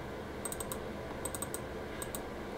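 A few faint, brief bursts of computer keystrokes in quick clusters, typed while setting up Active Directory for Unity Connection 12.5, heard over a steady background hum with no talking.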